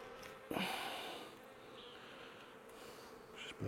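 Honey bees buzz steadily around an open hive being worked by a beekeeper, a dense, close drone with a brief louder surge near the start and another at the end.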